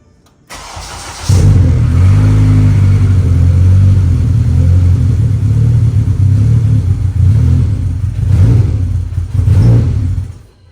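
A Honda Civic's newly installed built engine cranks and catches, then idles loudly and steadily, with a couple of revs near the end.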